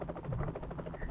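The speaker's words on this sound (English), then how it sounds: "Yeah, that's the helicopter." Helicopter rotor in a video game, a steady rhythmic chopping thrum with a low drone, moderately loud and continuous for about a second.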